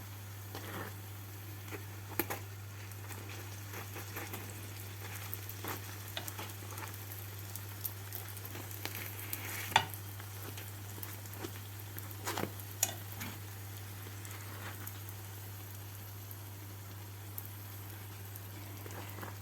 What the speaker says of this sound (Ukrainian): Буду тоді смажити без кришки.